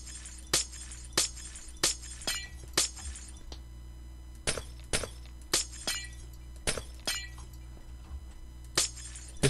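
Glass blocks are broken one after another in Minecraft, crisp shattering crashes repeating at a steady pace, close and loud over low background hum, with no speech.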